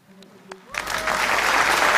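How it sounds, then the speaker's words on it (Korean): A few faint taps and brief sounds come first, then welcoming applause at a large rally swells suddenly, building into loud, sustained clapping from a big crowd. "큰 환영의 박수를 부탁드립니다."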